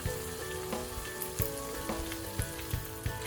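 Chicken kofta curry in a white gravy of poppy seed, melon and cashew paste with curd sizzles steadily in a pan while being stirred and mixed, with soft scraping knocks from the utensil, close and alone.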